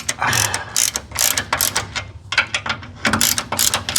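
A ratchet tightens the front shock absorber bolts on a 1961 Rampside, with quick bursts of close, crisp pawl clicking broken by short pauses between strokes.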